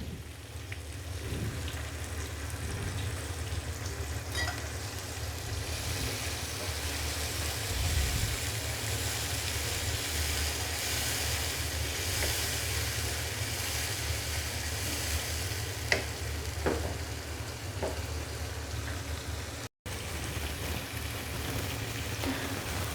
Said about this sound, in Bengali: ভেজিটেবল স্টক দিয়ে দেব।